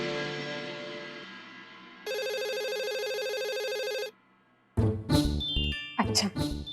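A telephone rings with a synthetic tone, first a steady buzzing ring, then a brighter electronic burst from about two to four seconds, followed by louder sounds of a different kind near the end.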